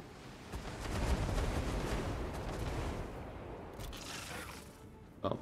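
Troops in Total War: Warhammer 2 fire in a rolling barrage of shots and booming impacts that peaks early, then thins, with a few sharp cracks near the end.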